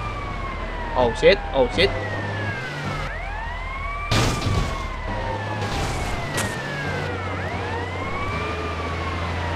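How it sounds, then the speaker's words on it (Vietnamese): A fire truck siren wails in GTA Vice City, rising and falling sweeps repeating over engine and traffic noise, loud and close, with a man briefly exclaiming over it. "Nó mà nghe tiếng còi hú là nó sẽ dừng lại hoặc là lắp qua một bên cho chúng ta đi."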